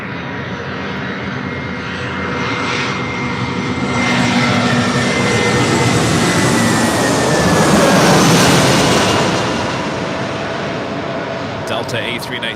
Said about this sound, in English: Delta A319 flying over us as I hold the shot at the A380.